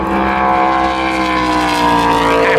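Aston Martin race car at a race circuit, its engine droning loud and steady with a slowly shifting pitch throughout, close and with no talking.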